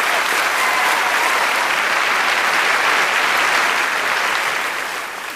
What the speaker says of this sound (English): A round of applause for our 4 volunteers.